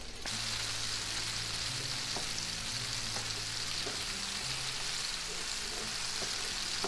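Tomato with hot pepper flakes sautés in a pan for a shrimp and arugula linguine, giving a steady, moderate sizzle with a few soft clicks of stirring.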